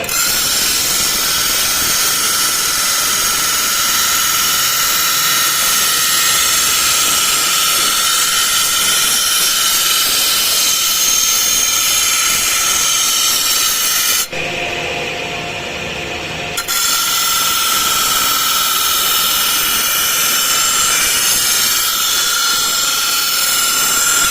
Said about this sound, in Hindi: मैं ग्राइंडर चालू कर लिया है।